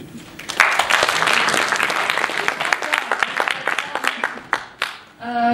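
A room of hackathon participants claps, starting as a dense burst of applause and thinning into scattered individual claps before dying away.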